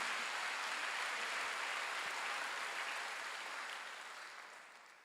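Church congregation applauding at a Wednesday worship service, a broad steady wash of many clapping hands that holds even and then fades toward the end.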